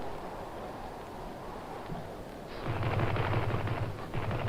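Gunfire from an enemy craft at sea in a 1954 war film starts after a stretch of quiet wind and engine noise, turning into a dense, rapid rattle of shots that sounds fairly distant.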